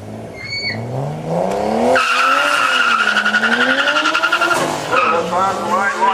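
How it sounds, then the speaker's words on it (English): Nissan Skyline R31 race car doing a burnout in the padded lines, loud tyre squeal rising over a revving engine that climbs and wavers in pitch for several seconds, sustained and close. "lighting up the tyres on the R31"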